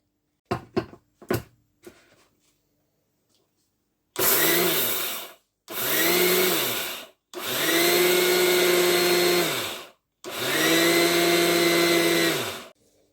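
Roasted sesame seeds are ground into powder in an electric grinder, starting with a few sharp rattles and clicks, then four loud whirring bursts of the motor separated by short pauses, each pulse rising in pitch as it runs.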